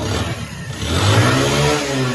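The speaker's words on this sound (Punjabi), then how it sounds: "ਮੋਟਰਸਾਈਕਲ ਸਟਾਰਟ ਹੈ" A motorcycle engine starts and revs up close, its low, steady roar swelling and holding loud throughout.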